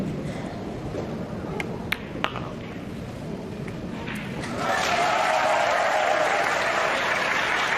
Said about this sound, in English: We know that cheer by now.